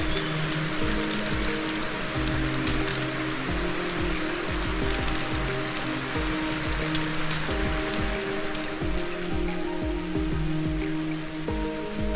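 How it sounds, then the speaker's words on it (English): Steady rain pours onto a porch in a video game, with dense, continuous patter and scattered drips close by over a low background rumble. "watching the rain from a porch with Arthur Morgan"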